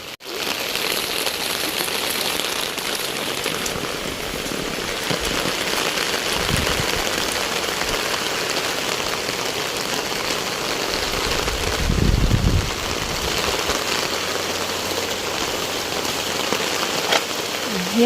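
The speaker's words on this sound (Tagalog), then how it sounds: "Ayan po, sumaulan po ngayon dito sa amin." Steady rain pours down outside a rural home in the Philippines during bad weather, a dense even hiss of drops on surfaces holding constant for the whole stretch, with a brief heavier rumble partway through and no talking.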